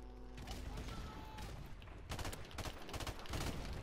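Gunfire and grenade blasts from a Modern Warfare Remastered team deathmatch, dense bursts of shots and booms that swell louder in the second half, with players talking faintly beneath.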